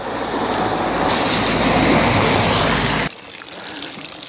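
Spring water from the hills runs beside a rainy mountain road near Lapchajagat, Darjeeling, with a loud, steady rushing wash that cuts sharply to a quieter trickle near the end.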